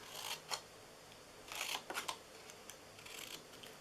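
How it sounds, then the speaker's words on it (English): Scissors cut through the bottom flaps of a small paper treat box, heard as a few faint, close snips and crisp paper rustles with quiet gaps in between. "But then we're going to cut these bottom flaps"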